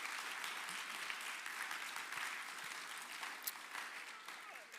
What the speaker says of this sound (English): please, and a round of applause for them.